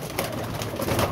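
Pigeons, a Teddy and a Salara among them, coo in steady soft rolling calls close by, continuous over the whole moment with no voices.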